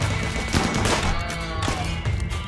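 Colonists and turrets trading gunfire in RimWorld, a dense, loud, continuous rattle of rapid shots with crashing impacts.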